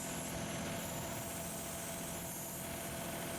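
A John Deere 2038R compact tractor with a backhoe attachment runs at a steady mid-throttle drone, a continuous close engine hum with no voices over it.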